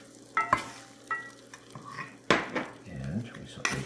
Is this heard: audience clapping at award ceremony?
no